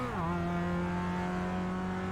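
Mazda MX-5 race car in iRacing at Tsukuba Circuit, its engine droning steadily and loud after a brief pitch drop at the start, holding a constant tone with no talk.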